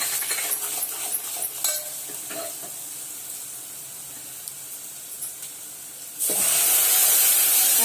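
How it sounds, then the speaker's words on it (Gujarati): Kokum dal tempered with ginger-garlic paste, garam masala, salt, chili, turmeric and asafoetida in hot oil, giving steady stirring and sizzling noise that swells into a loud, bright hiss of frying toward the end. "તો આ દાળ વઘારી દીધી."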